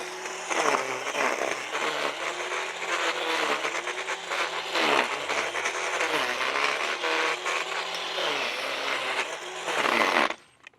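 A Ryobi 18V One+ HP brushless 204 mm edger cuts through tough paspalum grass, its loud, steady motor whine and blade rasp running continuously for about ten seconds before cutting off abruptly.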